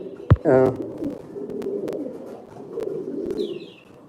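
Pigeons, mostly hens including a Danish white, coo at a live pigeon sale, with a low burbling call near the start, soft cooing and chirps after, and a voice speaking faintly nearby.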